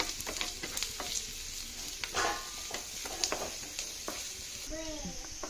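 Small onions fry in hot oil with a steady sizzle, a spoon stirring and tapping the pan now and then, and a faint voice briefly near the end.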